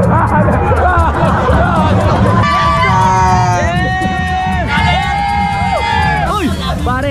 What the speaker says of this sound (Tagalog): Walang katapusan na hiyawan. Sigawan, talunan,